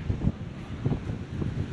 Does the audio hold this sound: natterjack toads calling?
no